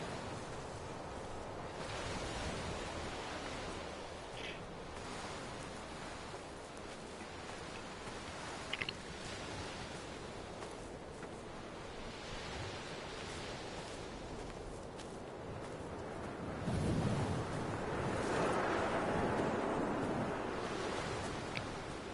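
Steady wind-like white noise fills the Dear Esther game world, a broad soft rushing ambience resembling surf or a windy day that continues unbroken at a low level, with a slight swell near the end.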